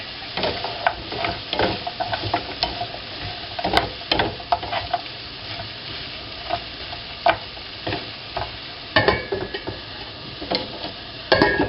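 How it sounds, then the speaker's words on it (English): Food cooking in a pan for a sugar-free lunch sizzles steadily while a utensil stirs through it in repeated scraping strokes, close and fairly loud, with no talk. "maybe at this point I'll give it the first little stir"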